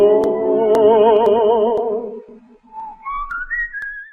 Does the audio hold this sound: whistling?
yes